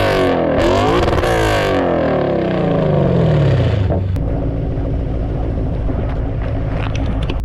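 A Lexus RCF with a GTHAUS Meisterschaft exhaust revs hard, loud and raspy, its pitch sweeping up then falling away into a sustained rumbling idle, with no voices.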